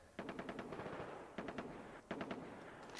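Bursts of automatic gunfire from the Far Cry 3 shooter game, three rapid rattling volleys of closely spaced shots separated by brief gaps, loud and up close with no talking.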